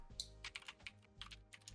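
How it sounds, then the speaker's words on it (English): Keys on a computer keyboard being typed in quick irregular bursts, close and fairly quiet, with no talking over it. "I like how you could hear the typing."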